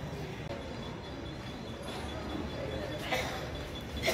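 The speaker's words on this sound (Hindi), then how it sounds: "चला आपली ट्रेन आली" A train pulling into a station in Mumbai, a steady low rumble of rolling wagons with a brief rise and faint screech near the end, heard as continuous ambience without speech.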